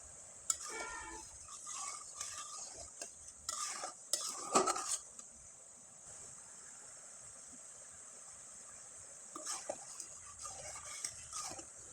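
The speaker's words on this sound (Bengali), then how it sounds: "এবার শিরাটা ভালোভাবে ফুটিয়ে নিতে হবে আর একটু ঘন করে তৈরি করে নিতে হবে" Sugar syrup with cardamom pods boiling in a pan, a utensil scraping and clinking against the metal in bursts of stirring over a steady bubbling hiss, close and fairly quiet.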